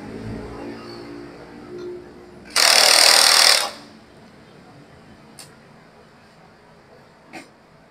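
An air impact gun used on a motorcycle during clutch cable repair fires one loud, rattling burst of about a second, with quieter workshop noise and a few faint clicks around it.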